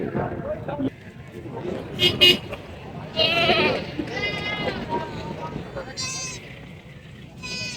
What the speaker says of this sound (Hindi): ये फ्रेंड्स ये बकरी है, 2 बच्चे हैं साथ, ये बच्चे हैं, ये वाली बकरी है।